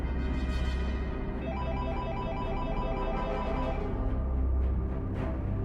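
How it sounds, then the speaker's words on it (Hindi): A phone ringing with a repeating electronic ringtone melody, steady and fairly loud over a low rumbling background. "फोन दोबारा बजने लगता है।"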